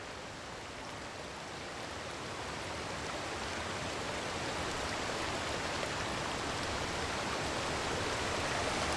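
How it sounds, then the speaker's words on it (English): A waterfall in a video game fills the scene with a steady, even rush of falling water. The hiss stays constant and moderately loud throughout, with no other sounds over it. "And now we're back to the peaceful waterfall."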